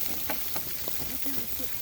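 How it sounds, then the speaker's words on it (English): Food sizzles and crackles steadily over a campfire at a riverside campsite, a soft, continuous hiss at low level with faint voices in the background. "Hear it sizzling, hear that fire,"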